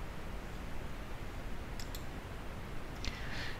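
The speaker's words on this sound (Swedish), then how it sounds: "du skapar nya genom att klicka på denna ikon" A computer mouse clicks on an icon in a short quick double click, then another click a moment later, faint against a steady background hiss.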